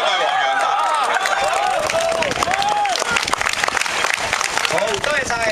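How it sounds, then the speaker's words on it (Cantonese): Dense applause from an audience at a political rally, sustained clapping throughout with mixed crowd voices and cheers layered over it. "再俾多啲掌聲林牧師"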